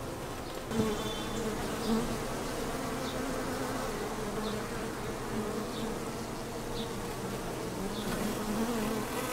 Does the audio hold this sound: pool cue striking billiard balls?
no